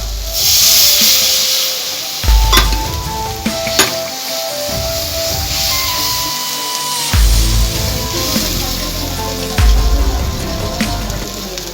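A splash of water hits a pan of frying spice masala, setting off a loud hissing, steaming sizzle that settles into softer bubbling, punctuated by spatula scrapes and stirring knocks.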